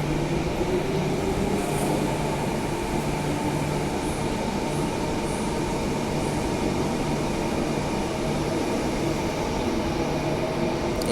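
Perth Transperth suburban electric train pulling away and running toward the city tunnel, a steady loud rolling rumble with traction hum and a high whine, continuous and close throughout.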